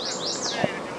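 Honey bees covering a hive frame, giving a close, steady buzzing drone with a few higher wing-whine sweeps across a brief moment.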